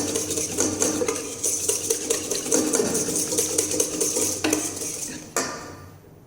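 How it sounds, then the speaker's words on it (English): A whisk beats chocolate cake batter with vanilla essence in a pot, a rapid repeated metallic clatter and scrape against the sides, close and steady, stopping abruptly near the end with no talk. "Whisk it again."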